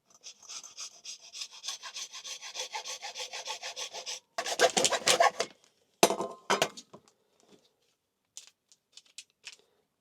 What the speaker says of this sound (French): donc avec une scie à métaux, comme c'est des dents qui sont fines, ça fera une coupe plus propre